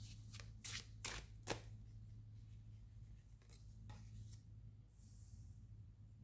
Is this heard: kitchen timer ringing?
no